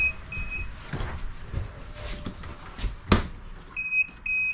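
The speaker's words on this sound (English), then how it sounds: "The heck's that beeping?" Intermittent high electronic beeps from an alarm sound in short repeated bursts inside a bunkhouse travel trailer, with soft rustling and thumps in between, ending with a steadier pair of tones.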